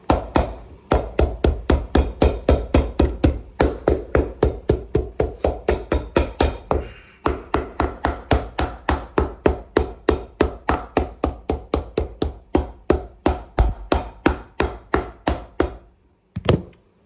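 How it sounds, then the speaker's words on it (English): Steady hammering of a sole onto a boot: a long run of sharp, evenly spaced taps with a brief pause partway through, then a final pair of blows. No one speaks. "And then we shall hammer it on."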